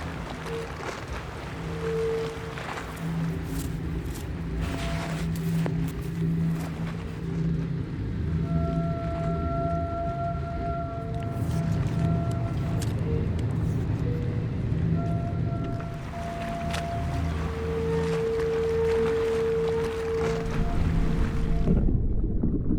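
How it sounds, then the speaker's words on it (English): Wind blowing through a water tank produces aeolian sounds, a rumbling, resonant drone with faint sustained whistling tones rising and falling over steady rain-like hiss, continuous and fairly loud. "the audio that you'll hear, as well as the rain, is aeolian sounds that the wind made in my water tank while I was living there"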